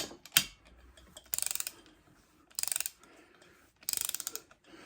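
A torque wrench tightens head cover bolts on a Honda 305 engine, with three quick bursts of rapid ratcheting clicks, close and crisp, separated by quiet pauses and a single louder click near the start.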